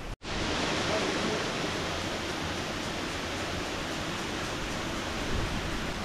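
Houdongkeng waterfall in Yilan, Taiwan, roars in a steady, dense rush of falling water that fills the scene at close range, loud and unbroken after a brief cut at the start.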